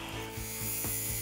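A parting tool cuts a tenon shoulder on wood spinning on a lathe, giving a close, continuous buzzing hum with a soft, regular pulsing scrape as the tool bites into the turning wood.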